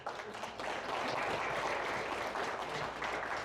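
An audience at a launch speech claps, a short, fairly quiet wash of applause that holds steady for a few seconds.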